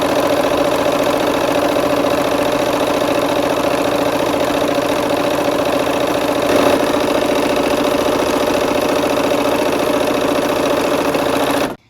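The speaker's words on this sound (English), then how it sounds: "And then we're just sewing them on the long sides." A sewing machine runs steadily as it stitches quilt strip sets along their long sides for a Peppermint Frost quilt block, a continuous close motor whir lasting nearly the whole stretch before cutting off abruptly at the end.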